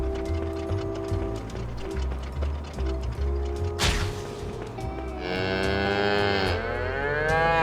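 Cows in a video game moo loudly in long, sustained calls over a steady mechanical ticking and tonal game backdrop, with a sharp burst midway before a rising, wavering final moo.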